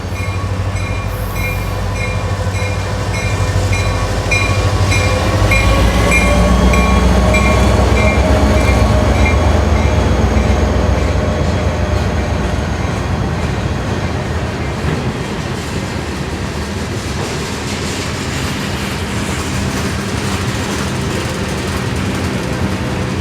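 Florida East Coast Railway freight train 945 rolls steadily out of a siding, with a loud continuous rumble, squealing wheels and rhythmic clanking of cars that ease off slightly toward the end.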